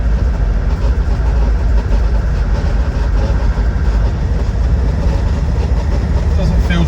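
A 2003 Land Rover Defender 90 TD5 diesel, recently restored, rumbles steadily while driving, a loud continuous low engine drone with road noise and no distinct breaks.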